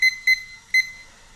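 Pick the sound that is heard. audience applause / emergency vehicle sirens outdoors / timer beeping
timer beeping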